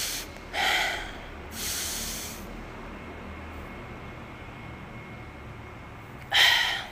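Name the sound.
demonstration of inhaling breath through the nose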